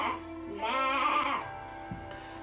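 A flock of village sheep and goats bleating, with one long, wavering bleat close by, loud and clear, followed by quieter grunts and bleats from other animals.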